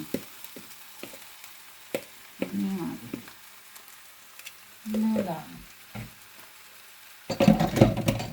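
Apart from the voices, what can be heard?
meat frying in a pan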